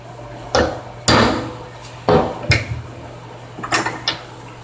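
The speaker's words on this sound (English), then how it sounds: "grab my hammer, I'm going to put my little punch" Six sharp metallic taps of a hammer on a center punch, marking a tattoo machine coil core, ring out at uneven intervals, some doubled, over a steady low electrical hum.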